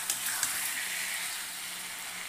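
Potatoes frying in oil with cooked-down spices give a steady, soft sizzle and hiss close by, continuous with no talk over it.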